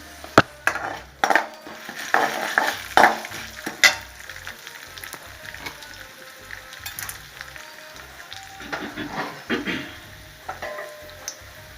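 Urad dal frying in a pan for a spicy chutney, with crackling sizzle and clattering spoon-stirring scrapes and taps close up.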